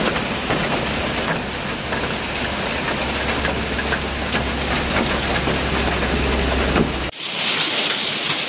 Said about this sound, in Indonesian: Ini namanya hujan es gitu.